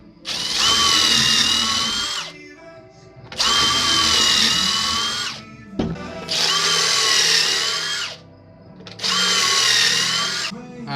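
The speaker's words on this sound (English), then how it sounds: "T25 star bit. That's what's gonna drive." A power drill fitted with a T25 star bit drives screws into wood in four loud, close bursts of high whine lasting about two seconds each, separated by short pauses.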